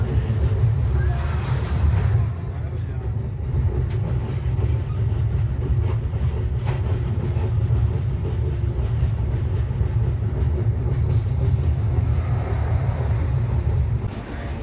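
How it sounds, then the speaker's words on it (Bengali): The Chitra Express rolls slowly across the 4.8 km Jamuna rail bridge in Bangladesh at about 20 km/h, a loud steady low rumble with faint rhythmic clatter, heard from aboard the train throughout. "ট্রেনটি সর্বোচ্চ বিশ কিলোমিটার গতিতে সেতু পার হয়"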